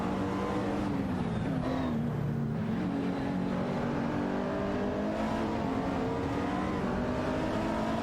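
Race cars in an AI racing game scream past continuously, engine tones rising and falling as they accelerate and shift, several cars overlapping in a dense, loud wall of revving with faint tire noise; no voices.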